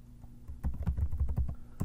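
Rapid computer keyboard typing, a quick run of close, crisp key clicks after a brief quiet start, with no talking.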